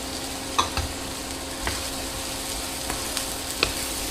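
Garlic and sun-dried tomatoes sizzling in a frying pan alongside Brussels sprouts and chorizo, a dense, loud, continuous hiss with a few light utensil taps and clicks, close up and without talk.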